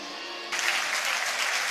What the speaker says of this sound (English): the crowd here at the Simple Digital Arena standing to applaud Jack Ross and James Fowler